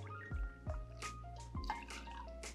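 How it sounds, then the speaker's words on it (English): Elijah Craig bourbon is poured into an Old Fashioned cocktail glass over sugar, giving a few close, quiet splashing drips and glugs in quick succession. "we're just gonna add 2 ounces of our Elijah Craig."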